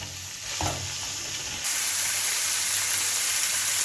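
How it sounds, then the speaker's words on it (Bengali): Raw jackfruit and potato being stir-fried together in a pan for an echor chingri curry, a steady loud sizzle with stirring scrapes that grows louder midway. "এঁচড় আলু একসঙ্গে দিয়ে দিলাম। এবার ভালো করে কষবো।"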